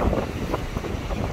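Wind rumbles and buffets against the microphone in a continuous, rough roar at Praia do Forte beach, Cabo Frio, Brazil.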